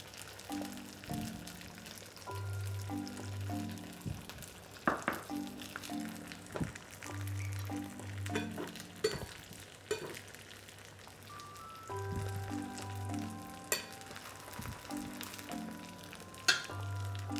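A scallion pancake fries in a few spoonfuls of oil in a pan, a steady soft sizzle running throughout, with occasional light taps and clatters from utensils and a low tonal hum in the background.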